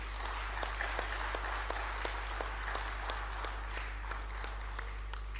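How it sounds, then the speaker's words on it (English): An audience at an annual conference of Court of Appeal justices gives scattered, fairly quiet applause, with individual claps standing out at an even pace over a steady background hum. "can we give him a round of applause again?"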